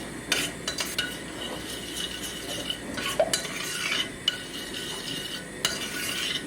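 A spoon stirring golden syrup as it heats in a pan, giving soft continuous swirling with occasional sharp metallic clinks and scrapes against the pan, steady and close, with no speech.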